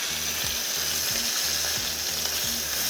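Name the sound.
steak searing in bacon fat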